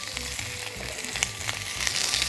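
Onion frying in a pan for chicken with white beans, a steady close sizzle with light stirring scrapes throughout, with no voices.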